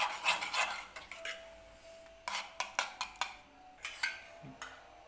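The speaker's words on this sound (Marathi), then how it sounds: "हे जे आहे अंडी ती व्यवस्थित मिक्स करून घ्यायची आहे." Eggs being beaten in a bowl for an omelette, with quick, uneven clinks of a utensil against the bowl, coming in bursts and pauses, close and fairly quiet.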